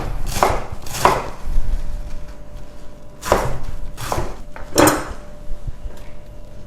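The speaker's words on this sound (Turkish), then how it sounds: "Daha sonra istediğiniz gibi doğrayın. Ben küçük küçük doğruyorum." Several sharp knife chops through cabbage on a cutting board, in uneven bursts with pauses between, close and fairly loud.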